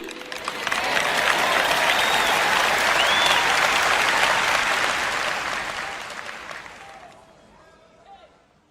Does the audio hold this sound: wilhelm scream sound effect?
no